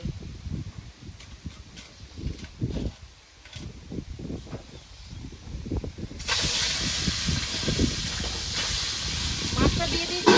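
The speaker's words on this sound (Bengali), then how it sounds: "তেলটা গরম হয়ে গেছে, এবার মাছগুলো ভেজে নেব।" Fresh rita fish from the Ajay river drops into hot oil in a covered pan. A few seconds of low handling knocks give way to a sudden, loud, sustained spattering hiss.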